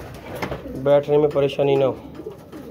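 Pigeons coo in a rooftop loft as a female bird is released, with a short run of soft, throaty, rolling coos close by, set between a man's speech.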